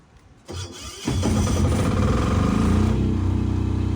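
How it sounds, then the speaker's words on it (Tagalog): A Philking PK10000 generator at a beach resort cranks over via remote start at about half a second, then catches around one second and settles into a loud, steady engine run close by. "kuya Nat, pinutin mo na yung remote control para mabuhay yung ating generator."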